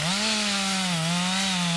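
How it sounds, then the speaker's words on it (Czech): A chainsaw runs at steady high revs in a snowy forest where woodcutters are working, a loud, continuous buzzing drone with slight pitch dips, heard up close and alone. "Díky zvuku motorové pily teď možná tušíte, že nejdeme na běžky"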